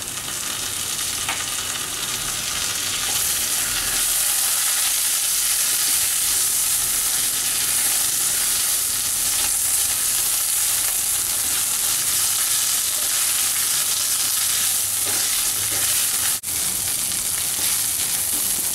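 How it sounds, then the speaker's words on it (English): Ginger and garlic frying in a pan for vegetable pulao, a dense, loud, even sizzle held steady for a long stretch, with light stirring and no talk. "After adding ginger and garlic, we'll again roast it for almost 1 or 2 minutes."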